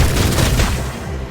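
A gunshot in the video game Reverse: 1999 hits with a heavy, booming blast followed by a rolling rumble, loud and close.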